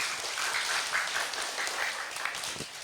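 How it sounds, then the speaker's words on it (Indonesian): A crowd applauds steadily after a children's madrasah performance, a dense wash of many hands clapping throughout, fairly loud and close. "Boleh tepuk tangannya?"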